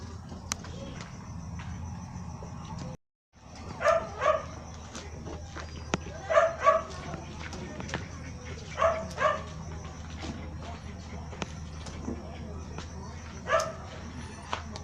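A male dog, father of a litter of puppies, gives several short whimpering yelps and barks spaced a few seconds apart over a steady low background hum.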